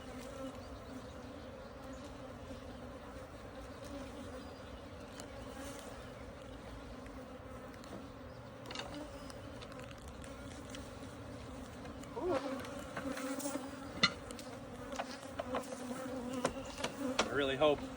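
Honeybees buzzing steadily around an unsettled, agitated hive in a farm apiary, a dense continuous drone that grows louder and busier near the end as more bees swirl close by.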